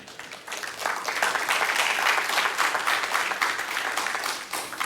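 A church congregation applauds during a sermon, a broad clatter of many hands that swells in, holds steady at moderate loudness and eases off slightly near the end, with no talking.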